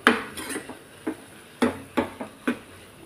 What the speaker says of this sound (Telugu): ఇప్పుడు మూత ఓపెన్ చేసి మళ్ళీ ఒకసారి తిప్పుకుంటే